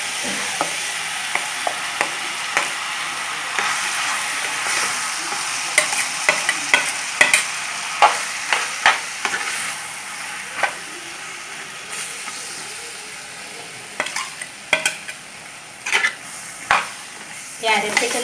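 Ivy gourd being stirred with masala paste in a hot pan, a steady close sizzle under repeated scraping knocks of a spoon against the pan, irregular strokes spread throughout.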